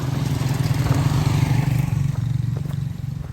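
Motorcycle engines drone loudly nearby on a road in Barotac Viejo, Iloilo, Philippines, a steady throbbing hum that gradually fades as they move off.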